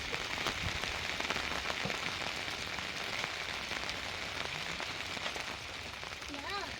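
Rain falls in a garden as a steady, close patter on surfaces, a constant hiss of drops that runs throughout while people talk softly nearby.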